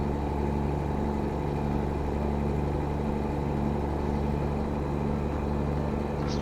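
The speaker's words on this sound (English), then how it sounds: "This truck is kind of loud." A truck engine in a truck driving simulator video game drones at a steady, loud, low idle-like hum, continuous and unchanging throughout with no talking over it.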